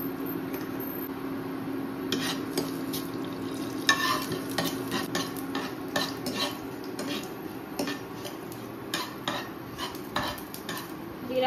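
Cumin seeds are added to a hot pan for paneer bhurji, giving a quiet, even sizzle under repeated light clinks and taps of a spoon against the pan.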